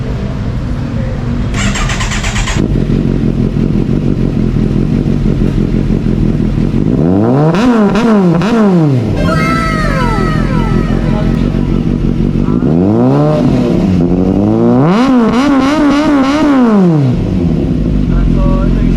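A Kawasaki Versys 1000 motorcycle engine idles loudly close by and then revs hard in several rising and falling bursts.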